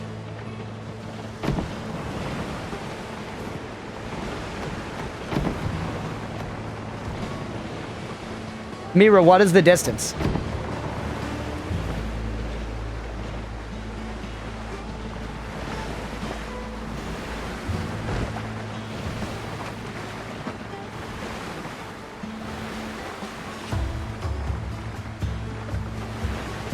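Ocean waves roll and wash steadily beneath a sailing ship in a pirate survival crafting game, a constant surf and wind bed under game music, with a brief louder splash midway and a person talking over it.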